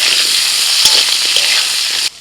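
Potatoes hitting a very hot wok just after the tempering of spices and asafoetida, a loud, close, hissing sizzle with scattered crackles that cuts off abruptly near the end.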